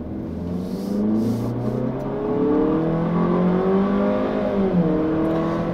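A 2016 Jeep Renegade Trailhawk with a 9-speed automatic accelerating hard, engine drone rising steadily in pitch, dipping at a gear change, then climbing again from inside the cabin.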